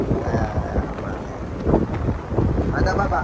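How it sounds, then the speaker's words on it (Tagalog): Wind blowing outdoors, a brief dense rumbling buffet pressing against the microphone, steady and close throughout. "dito may mahangin"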